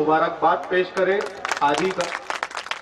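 Audience applause at an Urdu mushaira poetry gathering, a burst of dense clapping from the seated crowd that swells in the second half after someone speaks over a microphone.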